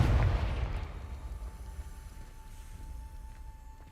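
A single Confringo spell explosion in the Hogwarts Legacy video game: one loud, near boom at the start that fades into a low rumbling tail.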